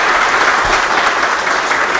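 Audience at a Brazilian Senate public hearing applauds the two organizers, with steady, dense clapping filling the room throughout.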